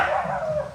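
A dog gives one loud, drawn-out, whining cry close by, heard alone without any speech.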